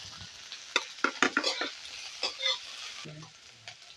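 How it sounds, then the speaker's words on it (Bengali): Beans, cabbage, green chilli and capsicum being lightly stir-fried in a pan, a low sizzle broken by sharp scraping and tossing clatters of a spatula, close by, with no one speaking. "সবজিগুলো বেশি ভাজতে হয় না, হালকাই ভাজতে হয়"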